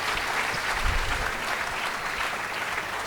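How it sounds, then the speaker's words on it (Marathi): Sustained applause from an audience at a company opening ceremony, steady dense clapping filling the whole stretch with no pauses. "जोरदार टाळ्या त्यांच्यासाठी देऊ"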